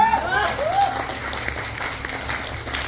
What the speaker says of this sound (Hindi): जोरदार ताली इनके लिए होनी चाहिए